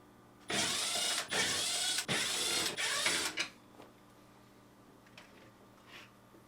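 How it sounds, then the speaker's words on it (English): Bolts on a GE refrigerator freezer slide holder being removed with a 1/4 inch nut driver, a close whirring run broken into short bursts, followed by faint clicks and handling sounds. "Using a 1/4 inch nut driver, remove these 4 bolts holding the slide holder in place."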